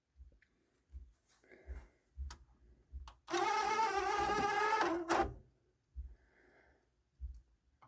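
Disc drawer of a Marantz CD-63 mkII CD player sliding out with a dry mechanical whir lasting about two seconds, framed by soft scattered ticks and clicks from the mechanism in a quiet room.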